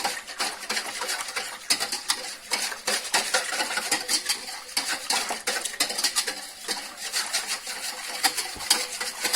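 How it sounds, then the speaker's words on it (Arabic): Eggs being mixed with cold water in a bowl, a continuous busy clatter of utensil against bowl that runs steadily throughout without pause, with no talking. "وغادي نولي نخلط باش يندمج هذا الماء مع داك البيض"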